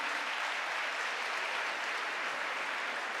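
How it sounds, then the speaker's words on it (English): An audience at a jigsaw puzzle championship applauds the helpers, a dense, steady round of clapping that holds at full strength throughout. "Let's give them a big applause."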